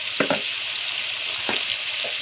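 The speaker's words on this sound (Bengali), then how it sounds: "এখন আম্মু এগুলোকে ভাজবে।" Small pond puti fish sizzle and spit in hot oil in a pan. A few sharp clinks of a spatula turning them sound over the steady frying hiss.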